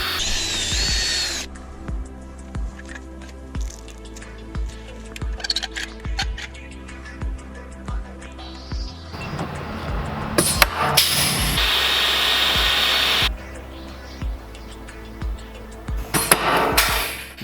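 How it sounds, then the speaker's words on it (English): Rivets are set into sheet metal on a converted prison bus with a hand tool, giving a series of regular sharp snaps about once a second over a steady engine-like drone, with louder grinding bursts near the end. "next thing to do is drop some rivets up top, and then I'm going to rivet down the sides where the Sikaflex is and seal it up"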